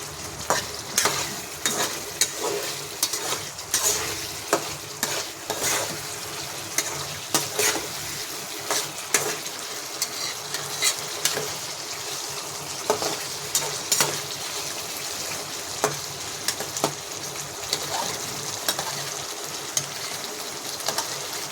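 Sliced pointed gourd sizzles steadily in hot oil in a pan, with frequent scraping stirs of a spatula recurring throughout; close, continuous frying with no talk.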